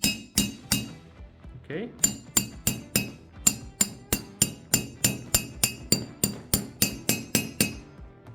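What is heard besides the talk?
metal wrench clinking on a Mazda 6 brake caliper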